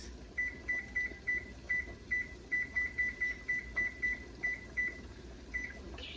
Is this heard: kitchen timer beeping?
yes